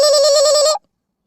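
One steady electronic ring tone as a phone call is placed, loud and clear for under a second, then it cuts off abruptly into silence.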